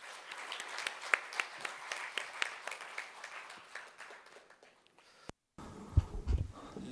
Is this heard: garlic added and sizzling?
no